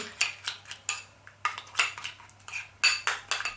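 A utensil knocks and scrapes against a bowl while vegan pizza base dough with thyme is lightly stirred by hand, a run of close, irregular clinks and scrapes with short pauses between strokes.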